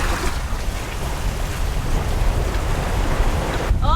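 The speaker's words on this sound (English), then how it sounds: "Oh, it's starting to rain!" Rain starting to fall while sailing in Sicily, patters in a steady broadband hiss, with a low rumble underneath and no voices.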